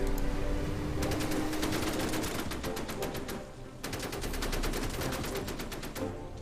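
Sustained machine-gun fire in the Order of Battle war strategy game, long rapid bursts of shots with a brief lull midway before the firing resumes.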